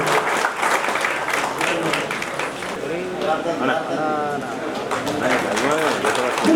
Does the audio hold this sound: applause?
yes